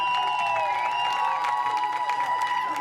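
Crowd at a peewee championship game applauds and cheers for the Chatham Kent Cougars, sustained clapping with whoops and shouts mixed in, close and lively with voices over it.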